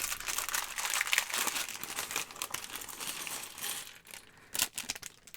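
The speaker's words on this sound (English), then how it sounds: "Let me get the bags open first, because then you can actually hear me over the noise of crinkling plastic." Crinkly plastic bags of Lego pieces being torn open and handled, a constant close crackling and rustling with sharper crunches throughout, no voice over it.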